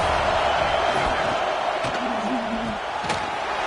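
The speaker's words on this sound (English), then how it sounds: "The Tide crowd rolling noise down on the Saban field on 3rd down" Dense, steady roar of a packed Alabama Crimson Tide college football stadium crowd on a third-down play against Florida, holding a constant loud level throughout with a brief tonal murmur rising partway through.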